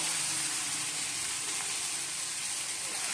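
Curry sizzles steadily as it is sautéed in a hot pan, a continuous close frying hiss with no pauses and no talking.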